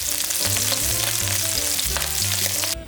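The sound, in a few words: abalone stir-frying in hot oil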